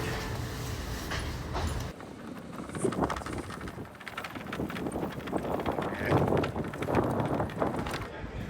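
Inside the train station built into Amsterdam airport, a steady wash of station bustle, rumbling rail noise and wind buffeting carries on with indistinct murmured voices, shifting in texture partway through.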